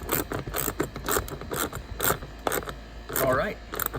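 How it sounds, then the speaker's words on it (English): A 10mm ratchet clicking in quick bursts as a bolt is driven into a Saab NG 900 or OG 9-3 dashboard, close and crisp, with a brief rubbing scrape near the end. "we're going to reinstall our bolt in here with our 10mm ratchet"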